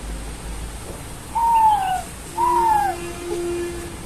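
A person imitates a dove's call with two smooth, falling hoot-like coos, followed by a softer steady held tone, close and clear against a quiet background.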